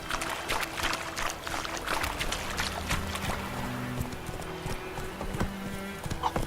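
Roach the horse trots in The Witcher 3, hooves clip-clopping in a quick irregular rhythm at moderate distance over soft ambient game sound, with occasional brief clatters.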